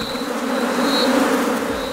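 A steady, dense buzzing of many honeybees, close and continuous, with a thin high whine running through it.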